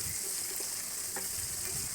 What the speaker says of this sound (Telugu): కరివేపాకు వేసాక ఉల్లిపాయను అయితే మనం బాగా ఫ్రై చేసుకోవాలన్నమాట.